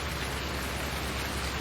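Steady rain falls in Farming Simulator 19, an even, dense hiss that holds constant throughout with no talking.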